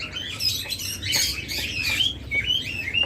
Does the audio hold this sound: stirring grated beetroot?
no